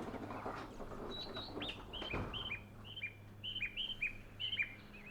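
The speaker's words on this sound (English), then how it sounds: "There's very noisy birds around here, isn't they?" Birds chirp in a rail scene from Train Simulator 2022, a run of quick high tweets growing busier and closer over a low rumbling background, with no talk.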